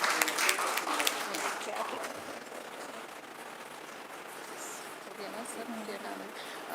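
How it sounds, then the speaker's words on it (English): Audience applause at a valedictory function, clapping strongest at the start then thinning into a quieter, softer patter with background voices. "Big rounds of applause, sir."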